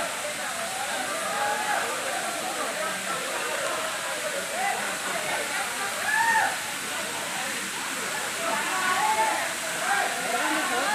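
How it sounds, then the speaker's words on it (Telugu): Bayyaram waterfall in Mahabubabad district: a steady, moderate rush of falling water fills the scene throughout, with faint voices in the background. "finally we are reach water falls అక్కడ కనిపిస్తుంది కదా అదే వాటర్ ఫాల్స్"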